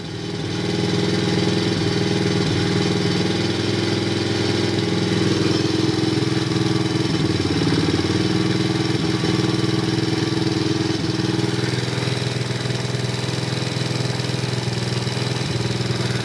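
A 110cc ATV engine, already warmed up, runs at a steady idle close by, its loud, continuous mechanical drone holding an even pitch throughout.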